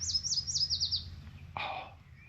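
A spring warbler sings from trees nearby, a quick series of about six high, rising chirped notes followed by a brief, sharper call, clear against a quiet background.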